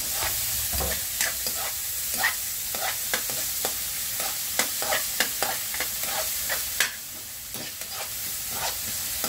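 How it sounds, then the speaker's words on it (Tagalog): Tomato, garlic and onion sautéing in a hot pan, a continuous sizzle broken by repeated scraping stirs of a utensil, close and clear with no talking. "Mabilisang gisa lang ito."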